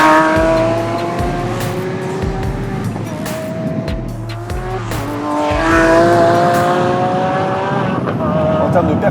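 Lamborghini Aventador SVJ from 2019 with its V12 revving hard through several rising acceleration pulls, loud and close, with gear changes and some tire noise, and a voice faintly under the engine.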